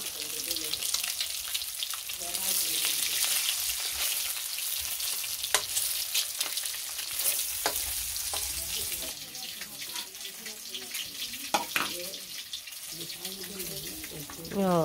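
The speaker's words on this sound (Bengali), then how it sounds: "সুন্দর ভাজা হয়েছে" Potato and bitter gourd fry in a pan with a continuous crackling sizzle, punctuated by stirring scrapes, while someone talks intermittently nearby.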